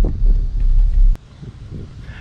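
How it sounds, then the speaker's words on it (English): Heavy wind at a riverside recreation area buffets the microphone in loud low rumbling gusts for about a second, then drops to a softer, fluttering breeze. "It's too windy to set our mat down right now."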